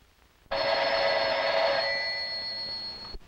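An old 1950s telephone bell rings loudly and steadily in a single continuous burst of about two and a half seconds, near and alone, then cuts off sharply.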